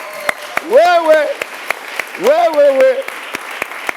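Scattered hand claps from a church congregation welcoming a pastor, sharp individual claps in a slow irregular rhythm under two loud drawn-out spoken calls.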